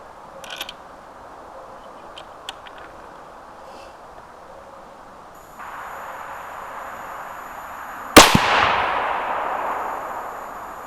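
A single 22 Creedmoor rifle shot firing an 85-grain Barnes Match Burner bullet cracks loudly near the end, ringing and decaying after a stretch of quiet bench handling clicks and a faint steady hum.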